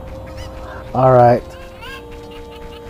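Cucco chickens from The Legend of Zelda: Ocarina of Time give one loud, squawking honk-like cluck at close range, set against a steady game music backdrop with a voice speaking briefly after it.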